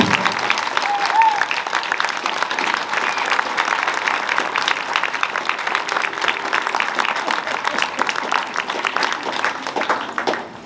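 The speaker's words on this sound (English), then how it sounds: "So give her a round of applause." A big audience applauds steadily for an honored student at a school spring program, dense hand clapping filling the whole stretch with little change and no talk above it.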